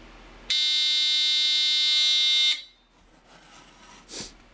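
A smoke alarm from a collection sounds a loud, continuous harmonic buzz for about two seconds before stopping sharply, leaving a quiet room with faint handling noise.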